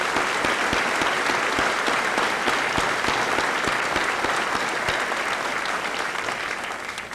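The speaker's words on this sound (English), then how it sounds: "I personally like to give them a nice round of applause for doing this again" A school audience at a senior assembly in a hall bursts into a dense, sustained round of applause, many hands clapping steadily and loudly for the full stretch before easing off slightly at the end.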